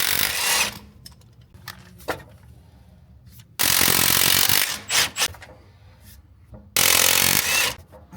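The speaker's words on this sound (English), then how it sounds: "now we're going to be loosening up the drive shaft from the differential" Hand tools working a car drive shaft loose from the differential, with scraping and rubbing bursts, metallic clicks and ratcheting between quieter gaps, close and fairly loud.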